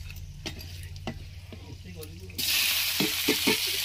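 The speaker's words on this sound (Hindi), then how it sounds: "पियाज को हल्का ब्राउन हो पर्यंत भाजवा" Onions frying in a pan with dried chilies and whole spices, a quiet crackle with stirring scrapes that swells into a loud, bright sizzle partway through, no clear talk.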